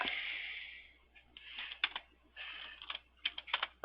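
Fingers typing on a computer keyboard at a desk, a close, fairly quiet run of key clicks in short bursts with brief pauses between them.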